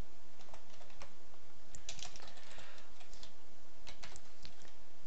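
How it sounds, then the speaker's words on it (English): Rapid keystrokes on a computer keyboard as a MongoDB shell command is typed, a steady run of close, crisp clicks with irregular spacing and no talking. "We'll start again by writing DB students because that's our collection,"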